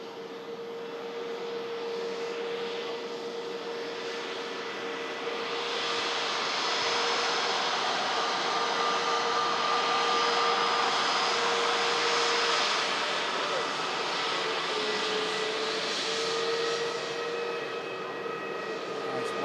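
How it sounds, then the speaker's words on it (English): Ryanair Boeing 737 Max 8200 jet starting its departure roll at Manchester Airport, a steady broad engine roar with a faint tonal whine that swells slightly midway and holds at a distance for the whole stretch. "As the Ryanair Max begins the departure roll."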